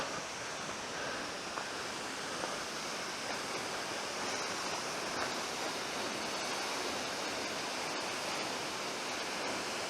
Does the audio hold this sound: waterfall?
yes